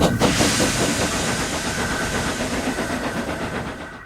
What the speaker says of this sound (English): Oliver and Duck puffed away before they could continue